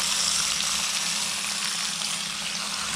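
Bear steak and mushrooms sizzle on a George Foreman grill, a steady, close hiss of frying that holds level throughout with no talk.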